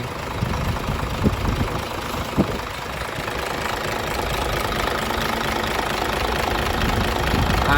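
Isuzu Forward truck with a 240 PS turbo diesel engine idling steadily, a continuous close rumble with faint knocking and a couple of brief louder thumps.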